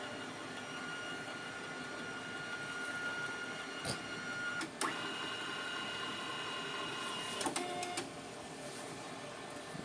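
A Canon i-SENSYS MF8280Cw color laser printer making a color copy gives a steady mechanical whir and hum with a few sharp clicks and clunks from its moving parts, close by and running without pause.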